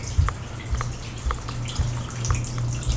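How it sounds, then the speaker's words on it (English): Water dribbles and drips from a household tap in uneven drops, fairly faint over a low steady hum in the room. "I think the water's working again."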